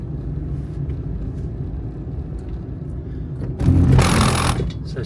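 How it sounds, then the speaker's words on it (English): An old, small car engine runs roughly, giving a steady, uneven low rumble that swells louder for about a second before settling back. "this poor little car does sound like there's something seriously wrong with it"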